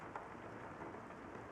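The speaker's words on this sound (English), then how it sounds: "It's raining?" Faint, steady rain hisses through a scene in the video game Rain Code, an even wash of patter with no clear drops standing out and no voices.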